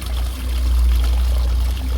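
Water pours steadily from a 12 volt car battery being flushed out during repair, a continuous loud gush with a low rushing rumble and no pauses.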